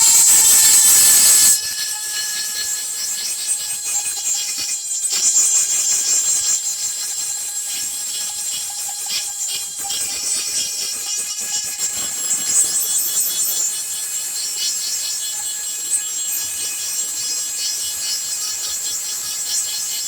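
A high-pitched Dremel rotary tool whines and grinds continuously for about twenty seconds while drilling bamboo, loud at first then steady, with faint scraping as it cuts.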